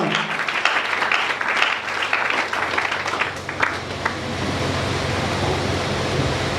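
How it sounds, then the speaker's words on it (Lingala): A church congregation applauds and cheers for the Lord, with steady dense clapping and crowd noise at moderate loudness that thins toward the end into a washy roar. "Acclamons très fort pour le Seigneur."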